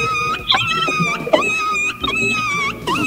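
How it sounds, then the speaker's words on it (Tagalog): A dog whimpers and whines in high, wavering cries after getting caught in a door, the yelps close and loud, broken by short pauses. "Yung aso mo po yung naipit. Naipit sa sa pintuan."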